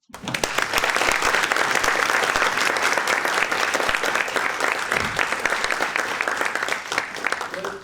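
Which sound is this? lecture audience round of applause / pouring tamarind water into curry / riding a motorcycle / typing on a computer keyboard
lecture audience round of applause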